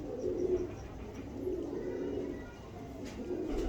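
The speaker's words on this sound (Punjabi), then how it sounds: "ਇਹ ਕਬੂਤਰ ਆ ਜੀ" A Langry teddy breed pigeon gives soft, low, continuous cooing close by, steady throughout over faint room noise, with no talking.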